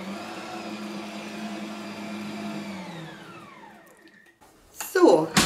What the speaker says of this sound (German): Und jetzt auf langsame Stufe, dass wir die Früchte nicht kaputt machen, noch eine Minute verkneten.